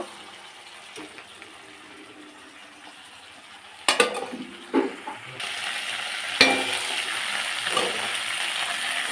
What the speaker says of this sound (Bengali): এখন এই যে ফুলকপিটা ভিজে রেখেছিলাম, এটা দিয়ে একটু কষিয়ে নেব।